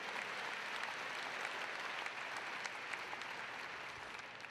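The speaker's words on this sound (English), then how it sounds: "Give me a round of applause for everybody voting." A large audience at a university fall commencement ceremony applauds steadily, a dense wash of clapping sustained at even loudness throughout and easing slightly at the close.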